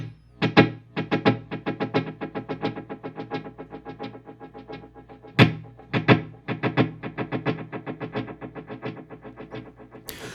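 Three TC Electronic Flashback delays stacked together turn an electric guitar swell into a dense, fast cascade of overlapping repeats, with a few stronger accented hits, filling the space loudly and continuously.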